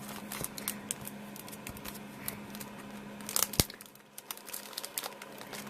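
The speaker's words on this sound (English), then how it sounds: "they were pre-packaged, so I have to be really careful with unwrapping this." A pre-packaged Midori travelers notebook with a leather cover being carefully unwrapped, close crinkling and tearing of packaging in soft irregular bursts with one sharper rip partway through, no talking.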